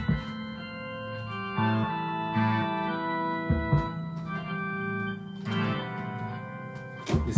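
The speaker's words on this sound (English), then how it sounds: "all of a sudden it turns into a church organ" An electronic organ played through an effects pedal gives a church-organ tone, sustained chords changing every second or so with swelling, layered harmonics, close and alone with no talking.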